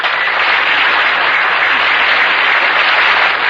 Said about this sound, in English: Maybe he wrote applause.